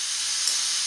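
A portable camp stove with a heat-melted piezo igniter burns with a steady, close, loud gas hiss and roar for a moment after lighting, with no talking.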